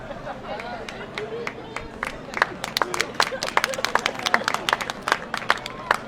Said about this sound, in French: si on commence à m'applaudir quand je bois de l'eau